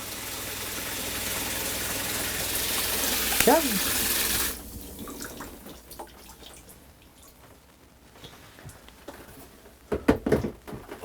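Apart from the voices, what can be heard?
water running from taps in a Winnebago View RV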